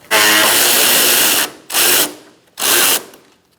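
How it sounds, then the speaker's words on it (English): A power tool with a 10mm socket spins out a bolt on a 2004-2009 Mazda 3 during headlight replacement, giving three loud, close bursts of whirring, the first long and the next two short. "Now we're going to use a 10mm socket and take out this bolt."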